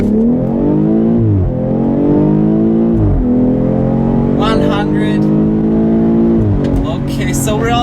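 A 2018 BMW X3 M40i launches hard from a standstill with kick-down, its engine note climbing steadily through the revs with brief dips at gear changes, loud and close from inside the cabin.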